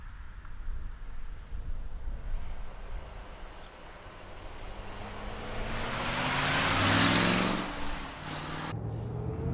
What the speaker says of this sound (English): let's take this 69 Vette for a ride